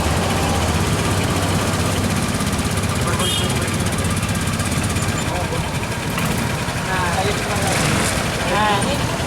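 Car engine started and left idling while warming up in a vehicle workshop training session: a loud, steady, rattling idle runs throughout as people talk over it.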